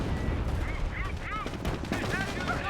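World War II strategy game battle with a dense, continuous clatter of distant gunfire and explosions, broken by short warbling whistles and shell-like sounds over a steady rumble.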